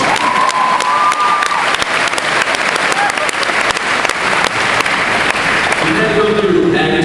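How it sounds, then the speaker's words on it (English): Graduation audience breaking into applause for a student speaker, a dense, loud wash of clapping with some cheering that holds steady throughout, with a few voices rising near the end. "Let's get a round of applause for learning"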